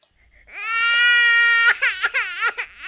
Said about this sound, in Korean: 아기 울음소리 한번 넣어보겠습니다.